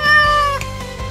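An animated cartoon cat gives a loud, close, drawn-out meow with a clear falling pitch, followed by a shorter second mew, with no talking.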